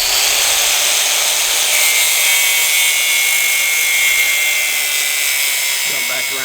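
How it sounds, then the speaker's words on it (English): A grinder fitted with a cutting disc trims excess threaded rod during a SlipSki boat garage build, giving a steady, loud high-pitched whine that runs continuously for several seconds and eases off at the end. "Come back with a grinder with a cutting disc."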